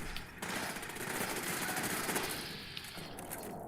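Automated turrets in Fallout 4 fire in a dense, sustained stream of rapid gunfire during a battle, loud and continuous throughout.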